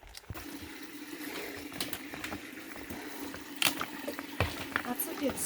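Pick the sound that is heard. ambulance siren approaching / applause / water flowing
water flowing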